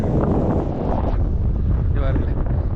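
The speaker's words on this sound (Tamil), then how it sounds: "காற்று ஜிலு ஜிலு ஜிலு ஜிலு அடிக்குது" Strong cool wind buffets the microphone on a long seaside cable bridge in Gujarat, a loud steady rushing roar with low rumble throughout.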